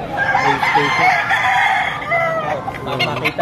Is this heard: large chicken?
yes